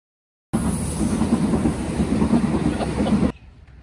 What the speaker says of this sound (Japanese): 電車来ました